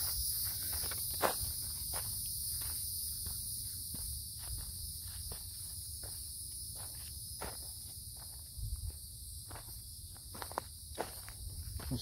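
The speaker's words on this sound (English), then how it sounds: "Sounds like crickets." Steady high-pitched cricket chirping at dusk fills the air throughout, with scattered footsteps and rustling crunching beneath it outdoors.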